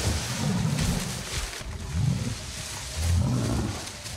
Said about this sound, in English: Sounds like a tiger.